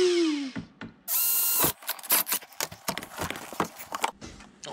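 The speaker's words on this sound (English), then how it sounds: "Drill our hole." Power drill boring a hole through a Thule Canyon roof rack on a Honda Fit camper, a short high whine followed by a burst of scraping, clattering tool and metal noises nearby.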